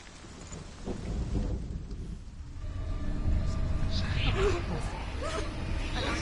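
Rain and rolling thunder fill a stormy scene in the video game Hellblade: Senua's Sacrifice, a steady wash of rainfall with a low rumble swelling midway, while a voice speaks over it.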